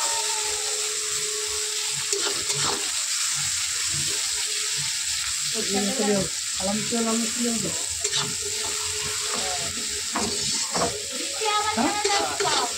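Onions and green chilies fry with a bay leaf in a pan, a steady close sizzle with repeated scraping stirs throughout, broken by brief clatters of the spoon against the metal.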